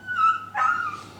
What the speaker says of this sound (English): we have an unhappy dog next door.